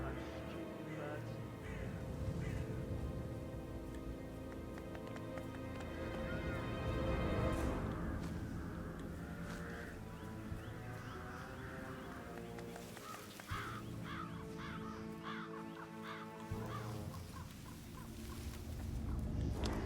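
Crows cawing in a graveyard in Hitman 3's England mission, a scattered run of harsh calls over a steady ambient game bed, with no voices.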